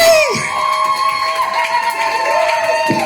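A crowd at a Southport battle of the bands semi-final cheers and shouts for the sound engineer, a loud, steady roar over sustained ringing tones from the stage.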